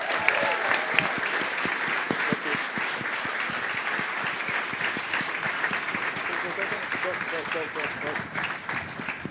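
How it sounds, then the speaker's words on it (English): A panel audience at a music-industry talk breaks into sustained, dense applause, steady and fairly loud throughout, with voices mixed in. "One more round of applause, y'all."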